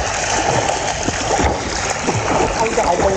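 People jump one after another into a swimming pool, making loud close splashes and churning water while voices call and chatter over the splashing.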